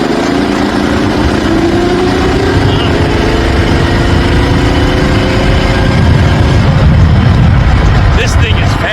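A VW bus engine powering a go kart roars steadily while riding, loud and close with wind rush, and a voice speaks briefly over it.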